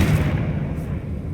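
A Confringo blasting spell cast in Hogwarts Legacy lands as a dense, booming burst of low rumble that carries through the whole brief moment, loud and close with no pause.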